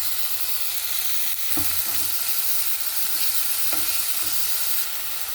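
Ginger garlic paste frying in hot oil with onion and green chillies, a dense close sizzle broken by a few spatula stirs and scrapes against the pan.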